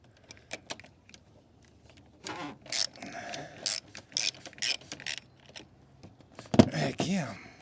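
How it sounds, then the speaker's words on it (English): A hand ratchet clicks in short bursts as it turns a socket on an extension, loosening the fuel filter on a 2018 Ram 2500 truck, with light metallic handling noises and occasional quiet talk. "Put your ratchet on."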